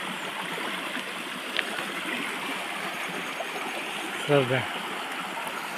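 A river runs steadily in the background along a Samar mountain trail, a soft continuous rush of water, with a brief spoken remark and a short voice burst near the end.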